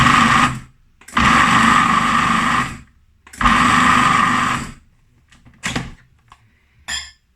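A blender pulses green juice pulp in short bursts: two long loud whirs, then several quick brief pulses, each stopping abruptly into quiet, close and alone.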